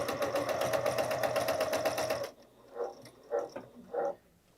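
A Bernina sewing machine runs a fast, even top stitch at long stitch length, a loud rapid mechanical chatter that stops abruptly midway, followed by a few short quieter whirring bursts.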